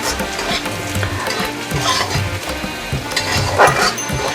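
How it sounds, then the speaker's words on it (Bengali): Kulekhara greens frying in oil with garlic in a pan, a loud close sizzle punctuated by repeated scraping stirs. "তারপরে আমি শাকটা দিয়ে দেবো।"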